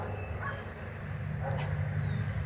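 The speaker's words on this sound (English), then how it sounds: "We have a lot of dogs in the neighborhood." Neighborhood dogs bark and yip at a distance in a backyard garden, a few short sharp calls scattered over a steady low hum of outdoor background noise.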